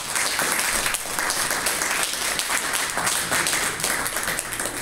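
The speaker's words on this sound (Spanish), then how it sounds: "Un fuerte aplauso al Señor." A congregation at a Spanish-language church service breaks into strong applause, many hands clapping in a loud, continuous wash with no voices on top.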